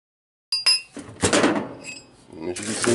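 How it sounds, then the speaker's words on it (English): Nylon hammer striking a ring on a steel ring mandrel, heard as a few sharp metallic clinking whacks close by, with rattling handling noise between the blows. "Use my nylon hammer and just give it a"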